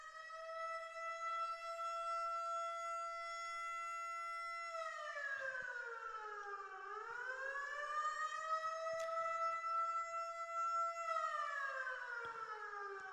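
A loud civil-defense style siren sounds alone throughout, a steady wailing tone that dips and swoops in pitch several times, played over a livestream of a Risk game to wake viewers.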